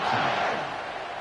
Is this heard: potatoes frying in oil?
no